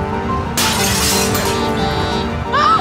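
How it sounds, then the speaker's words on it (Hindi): Glass shatters with a sudden loud burst of bright crashing noise that lingers as scattered debris, in a tense household scene where an attacker is being sought. "कांच टूटने की आवाज आई"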